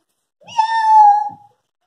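A storyteller's voice imitates a hungry cat rummaging in garbage, giving one loud, drawn-out meow that is close and clear, with a rising then falling pitch and no other sound around it.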